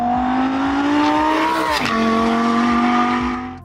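A Lamborghini Huracan Technica sports car revs hard with a loud, close engine note that climbs steadily, dips sharply midway as if shifting or lifting off, then climbs again.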